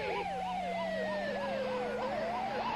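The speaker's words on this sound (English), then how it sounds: "sends an ambulance racing through the night streets" An ambulance siren wails in a rapid yelp pattern as the vehicle races through night streets, loud and continuous with a steady engine hum beneath, no voices.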